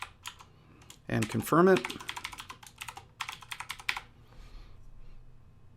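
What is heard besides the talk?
typing a password on a computer keyboard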